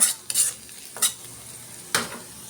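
Okra frying with onion and turmeric in oil, heard as a few quick scraping stirs at irregular intervals over a faint sizzle, close and moderately quiet, with no voices.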